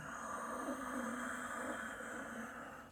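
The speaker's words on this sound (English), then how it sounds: "If you want to add ujjayi breath, victorious breath, more advanced yogic breath" A person demonstrates an ujjayi yogic breath exhale: a soft, steady, throaty hiss of air through a constricted throat, close and faint, lasting about three seconds with no speech.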